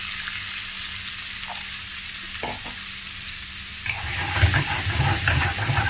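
Chopped onion fries in oil in a pan for a momo chutney, giving a steady close hiss of sizzling that swells louder and busier toward the end.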